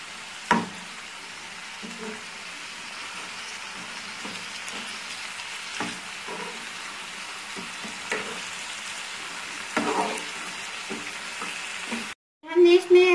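Tomatoes and green chilies sizzle in a pan for a spinach saag curry, a steady close frying hiss with occasional stirring scrapes, then a brief gap and a louder burst of sizzle at the end.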